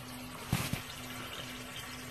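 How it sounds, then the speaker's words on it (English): Water trickling into a sump basin in a crawl space during standing-water removal, a faint steady wash with a steady low hum and two brief splashy knocks near the start. "See water coming in through the bottom of the basin."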